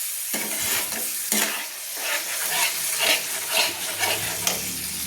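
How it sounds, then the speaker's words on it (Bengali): Spice paste for a potato and prawn curry sizzles in a hot pan as a spoon stirs and scrapes it in repeated strokes, close and clear with no talking. "দিয়ে বন্ধুরা ভালো করে আমি একটু নেড়ে নিচ্ছি, দিয়ে একটু ভালো করে আর একটু কষিয়ে নিচ্ছি।"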